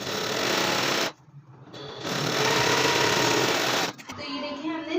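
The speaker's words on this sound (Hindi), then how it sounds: "हमने दोनों साइड्स पर सिलाई कर ली है" Sewing machine stitching the side seam of a pant-style trouser, running loud and steady in two long bursts separated by a short pause and a brief stop near the end.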